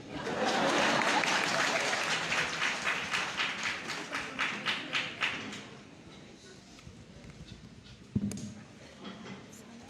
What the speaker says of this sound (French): Continuez à applaudir.